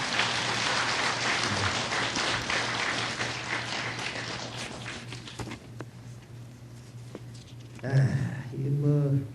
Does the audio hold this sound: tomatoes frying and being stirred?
no